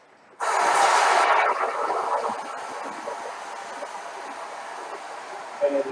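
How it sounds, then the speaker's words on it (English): A model train on a short line railroad layout rushes through with a loud broadband roar that starts abruptly, then fades to a steady softer rumble as it continues running. "And the train just wanted to be heard"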